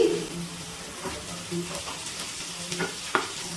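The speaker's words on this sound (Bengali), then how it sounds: "এবার এর মধ্যে ভেজে রাখা ফুলকপিগুলো দিয়ে দিচ্ছি।" Fried cauliflower stirred into a sizzling spice mix in a pan for cauliflower korma: a quiet, steady sizzle with soft scraping stirs and a few clinks of a utensil.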